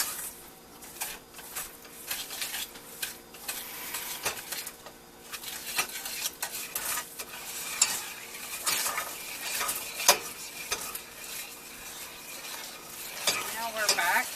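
Caramel icing stirred constantly in a pot on an electric stove, with repeated scraping and clinking of a spoon against the pot over a soft bubbling sizzle.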